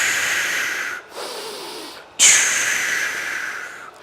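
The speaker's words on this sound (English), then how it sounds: "And I'm breathing." A person exercising in a tall standing 90-90 position breathes audibly and close to the microphone, with long hissing exhalations broken by two short pauses, the second followed by a sharp, louder breath.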